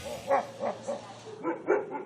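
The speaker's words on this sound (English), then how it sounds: "The barking is definitely the dog in her." A wolfdog barks in short, yappy bursts, about six barks with brief pauses, fairly close and clear with no talking.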